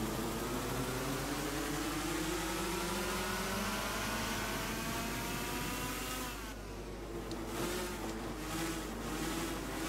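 Racing kart engines in the Gran Turismo 6 video game, a steady high-pitched buzzing drone with rising and falling pitch sweeps as the karts accelerate and shift, continuous and fairly loud with no talking.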